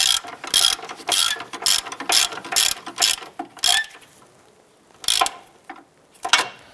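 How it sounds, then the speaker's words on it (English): A ratchet tightens a lower control arm bolt on a 2008-2013 Nissan Rogue, rapid bursts of clicking strokes in a repeated rhythm with short pauses between, close and crisp, with no talk. "Go ahead and tighten down the rear bolt."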